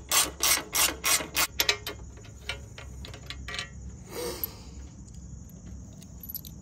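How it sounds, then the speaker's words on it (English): A 7/32 hex key loosens a bolt on a Harley-Davidson Dyna during a sissy bar install, producing a quick run of sharp ratcheting clicks up close, then fainter scattered ticks and a soft scrape. "taking our 7/32 hex, we are going to loosen up this bolt a bit."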